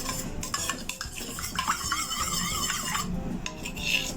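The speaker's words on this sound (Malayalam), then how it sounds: "1 ടേബിൾ സ്പൂൺ ഗീ ചേർത്തിട്ട് നന്നായിട്ടൊന്ന് മിക്സ് ചെയ്യാം." A spoon stirs ghee into oil, scraping around a metal pan in steady circular strokes, with light clinks and rasping.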